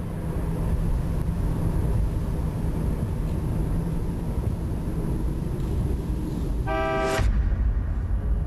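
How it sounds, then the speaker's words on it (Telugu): A car is heard arriving, its engine rumbling steadily before a loud horn toot sounds near the end. "కారు శబ్దం వినిపిస్తోంది."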